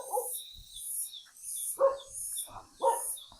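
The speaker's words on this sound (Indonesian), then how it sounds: "Ada apa tuh anjing?" A dog barks in a few short bursts spaced apart, fairly close, with quiet outdoor ambience between them.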